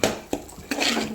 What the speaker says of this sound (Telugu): ఇవన్నీ వేసుకొని మంచిగా కలుపుకోవాలి.